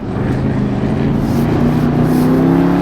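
A 707 hp Jeep Trackhawk SUV's engine pulls hard under acceleration, a loud, close, rising drone that climbs steadily in pitch throughout, with no voices.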